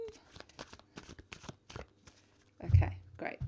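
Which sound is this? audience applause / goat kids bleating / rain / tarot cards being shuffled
tarot cards being shuffled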